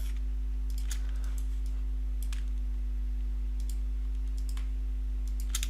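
Computer mouse and keyboard clicks come in short clustered bursts during 3D modeling work, crisp and close against a steady electrical hum, with no talking.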